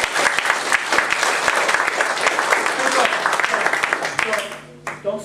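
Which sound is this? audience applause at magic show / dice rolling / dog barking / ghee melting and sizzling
audience applause at magic show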